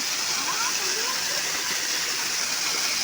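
A Konkan waterfall rushes in a steady, loud, unbroken roar of falling water, close by and with no other sound standing out.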